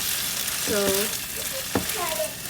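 Tofu fries in a pan with a constant, close sizzle and brief scraping stirs, while a voice talks briefly over the hiss.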